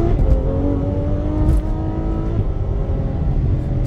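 A Ferrari F12 supercar accelerating hard, its V12 engine a loud, sustained roar that climbs in pitch, heard from inside the car with steady wind and road noise underneath.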